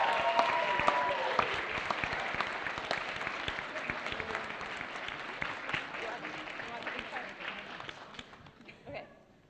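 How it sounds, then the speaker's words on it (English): A crowd applauds the winner of a student fashion design contest, a steady wash of clapping that gradually tapers off, with voices mixed in underneath. "Give a round of applause for Brooke Wallace."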